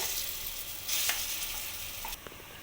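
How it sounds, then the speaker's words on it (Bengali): Steady hiss of lentil paste for dal puri frying in hot oil in a wok, with a louder surge of sizzling partway through and a few light scrapes of stirring. "আমি কড়াইয়ের মধ্যে আমি ডালের যে পেস্টটা তৈরি করে রেখে দিয়েছিলাম সেটা আমি দিয়ে দেবো কড়াইতে"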